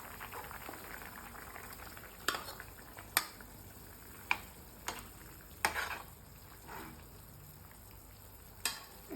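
Mushrooms simmer in a bubbling curry in a pan, a soft, quiet frying and boiling hiss punctuated by several sharp clinks and scrapes of a spoon against the pan.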